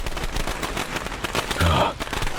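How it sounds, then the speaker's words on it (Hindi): Firecrackers burst from a burning doll in a rapid, dense crackle of sharp pops like a string of small explosions, loud and continuous throughout. "उसमें से पटाखे की आवाज आने लगी।"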